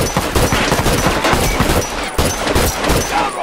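Rapid bursts of gunfire fill a firefight in The Last of Us Remastered multiplayer, loud and close, with overlapping shots and booms running steadily throughout and no talk.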